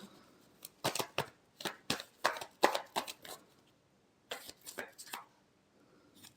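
Tarot cards being shuffled in two runs of quick papery riffles and taps, a dense burst of about two seconds, then a pause and a shorter second burst, close and clear.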